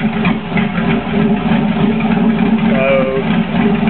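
A stock 2006 Corvette 6-liter LS2 V8 with 243 cylinder heads idles steadily with a low, even rumble, while someone talks over it.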